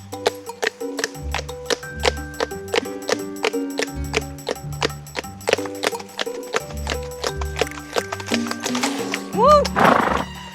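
A horse named Tao trots along an Ardennes nature park trail, its hooves making a steady, close clip-clop rhythm under a rider's occasional voice, with a brief snort or whinny near the end.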